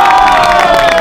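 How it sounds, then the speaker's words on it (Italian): Lively audience crowd reacting during an Italian rap battle event, a short loud burst of cheering and clapping with shouts mixed in. "Applauso di stima."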